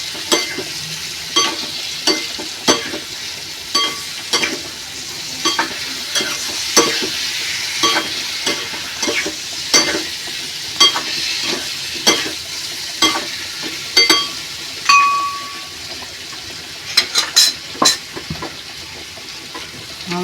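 Farali bhaji fries in a pan while a spoon stirs it, giving a soft continuous sizzle broken by repeated scraping and clinking strokes at an uneven rhythm, close up, with no talking.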